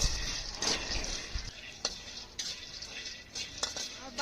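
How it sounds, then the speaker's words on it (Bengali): Peanuts being pan-fried and stirred in a home kitchen, with scraping clatters of a utensil against the pan at irregular moments and a soft background sizzle, close and fairly loud. "বাদামটা ভাজা হয়ে গেছে, এখন আমি নামাই দেবো।"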